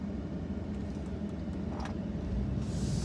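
Road traffic makes a steady, dense rumble with a continuous wash of engine and tyre noise and no distinct pauses or voices.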